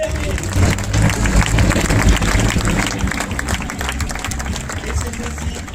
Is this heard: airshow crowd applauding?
yes